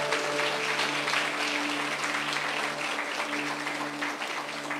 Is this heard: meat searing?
no